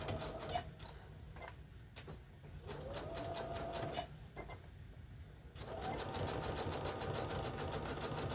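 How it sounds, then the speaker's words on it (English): A sewing machine runs a wide zigzag stitch joining two mats, a fast rhythmic mechanical chatter that stops and restarts in short runs, fairly quiet and close. "you just put a wide zigzag all the way down, connecting the two mats"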